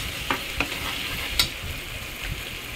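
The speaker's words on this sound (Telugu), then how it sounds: "ఆయిల్లోనే ఫ్రై చేసుకోవాలండి. బాగా మిక్స్ చేసుకోవాలండి అడుగంట పోకుండా." Brinjal curry masala fries in oil and is stirred, a steady close sizzle broken by a few sharp scrapes of the spoon against the pan, with no voices.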